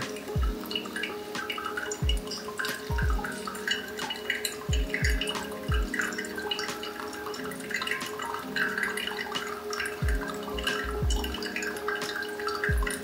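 Hot water is poured over coffee grounds for pour-over brewing, with soft dripping and trickling and a few clear, close drips scattered throughout as the brew filters through.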